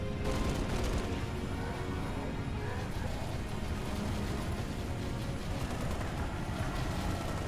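Dense, continuous gunfire and explosions roll through a video game battle, a busy layered barrage heard faintly at low level with no pauses.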